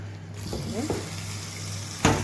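Chicken sizzles in hot oil in a frying pan as a big spoon turns it over the flame, a soft steady crackle with a couple of stirring scrapes and a sharp clink near the end.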